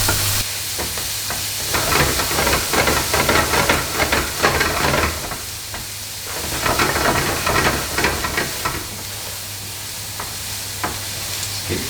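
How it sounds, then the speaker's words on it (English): Onions and whole cumin seeds fry in a very hot pan, with a steady sizzle and hiss broken by repeated scraping stir strokes, close and loud throughout. "Keep stirring that through just until the onions are softened."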